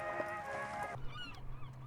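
Loud, harsh, honking seagull calls ring out close in the video game An English Haunting, a burst of squawks that drops into a lower drone and softer calls, with no talk over it.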